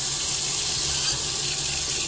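Tap water runs steadily from a faucet to flush potted Phalaenopsis orchids, a constant close hiss and splash with no talking.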